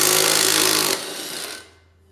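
An impact drill runs on a bolt of lawn equipment, a loud, close whirring burst that stops abruptly and then fades away, with no voices.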